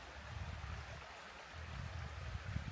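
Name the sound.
babbling brook flowing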